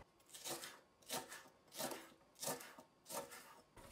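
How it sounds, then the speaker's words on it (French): A knife cuts a thick, washed and dried leek stalk into thin strips for a salmon and leek tart, six soft, rhythmic rasping strokes spaced about a second apart, quiet and close with no speech. "Prenez une grosse tige de poireau lavée et séchée. Commencez à la découper."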